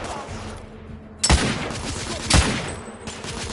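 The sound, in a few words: sniper and gunfire in a firefight, from the video game The Order: 1886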